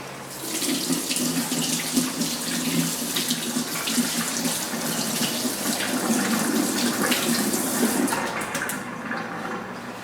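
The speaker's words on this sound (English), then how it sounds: "I'm going to give my hand there a really quick rinse." Tap water runs steadily from a kitchen faucet while a hand is rinsed under it, a continuous close splashing rush that fades near the end, with no talking.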